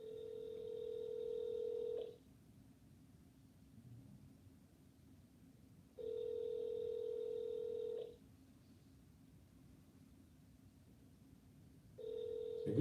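An unanswered phone call rings back three times in a steady pattern, each two-second tone followed by about four seconds of silence, clear and alone.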